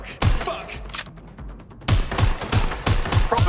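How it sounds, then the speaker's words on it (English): Rapid close gunfire rattles in bursts in the Watch Dogs Legion video game, punchy repeated shots with a brief lull before another volley of thudding reports. "Right, shots fired!"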